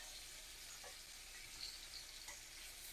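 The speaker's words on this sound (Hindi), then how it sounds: "अब इसे हम 2 मिनट सिर्फ फ्राई करेंगे मीडियम फ्लेम पे" Tandoori chicken momos frying in a pan over a medium flame, a faint, even sizzle with soft occasional crackles and no talking.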